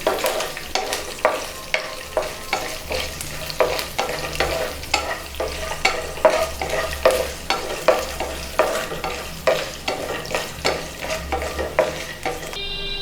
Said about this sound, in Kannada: ಇವಾಗ ಒಗ್ಗರಣೆ ರೆಡಿಯಾಗಿದೆ